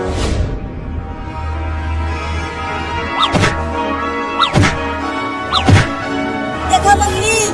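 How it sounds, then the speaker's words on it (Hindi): A cat throws itself against a door again and again, making several sharp thuds and knocks spread over a few seconds, with a steady background hum. "देखो मम्मी, वो कमीनी बिलार दरवाजे को कैसे मार रही है, लगता है जैसे तोड़ ही देगी।"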